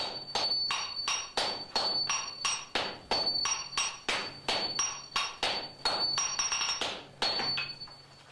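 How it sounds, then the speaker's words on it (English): Hammers strike hot steel on an anvil while a Japanese samurai sword is forged, a swordsmith's small hammer and disciples' large hammers giving a steady run of sharp ringing metallic clangs, close and loud with a bright ring after each blow. "The rhythm of Yoshindo's small hammer tells his disciples wielding the large hammers how"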